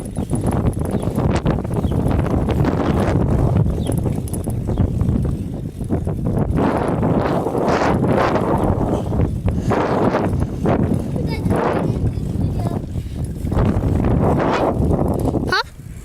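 Very strong wind gusts outdoors, heavy enough to lift a rug and knock a branch loose, roar in a loud continuous rush across the mic as people talk over it.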